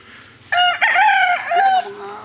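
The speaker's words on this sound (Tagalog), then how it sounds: "Ayan ang mga manok ko na." A rooster crows once on a farm in Laguna, loud and close, a long drawn-out call with a rising then falling shape, fading to quiet at the end.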